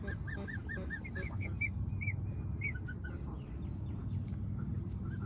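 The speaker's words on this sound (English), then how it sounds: "I think our mama goose is broody, except we don't have a daddy goose." A broody domestic mother goose honks repeatedly in short, clear calls over a steady outdoor background rumble, at moderate distance, with no speech.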